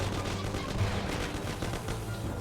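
Dense, continuous gunfire from a shootout in the video game Mafia, with shotgun blasts mixed into rapid overlapping shots at a steady, loud level throughout.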